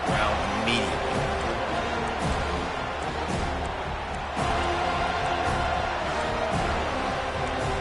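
Simulated home crowd at a college football video game in a LSU at Florida State matchup, a dense, steady roar of cheering filling the whole stretch with brief swells and thumps.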